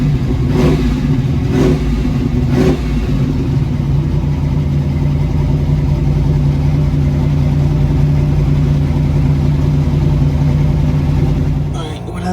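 A carbureted Chevrolet Silverado engine, its carburetor freshly adjusted, blips its throttle in three quick revs and then settles into a loud, steady rumbling idle close by. The idle runs unbroken to the end.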